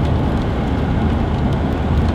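Steady rain drums on a car driving in Ontario, a dense continuous patter with low road rumble underneath.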